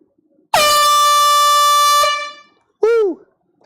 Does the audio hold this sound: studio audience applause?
no